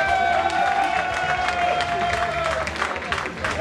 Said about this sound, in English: let's put our hands together for Trace Radio.